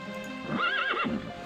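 A horse in the video game Daggerfall Unity gives a single loud, close whinny with a rising then falling wavering pitch, alone, lasting about half a second amid a soft background.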